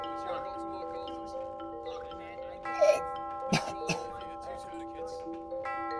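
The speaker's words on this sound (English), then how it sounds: "The bell rings every time someone dies." Sustained bell ringing in the GTA 5 roleplay game marks a player's death, with steady overlapping tones held throughout and a few sharp bursts of noise partway through.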